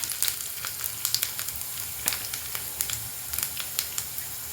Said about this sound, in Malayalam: ഇനി അതിലേക്ക് വറ്റൽമുളക്, ഉഴുന്നുപരിപ്പും ഒരു 1/2 ടീസ്പൂൺ എടുത്തോളൂ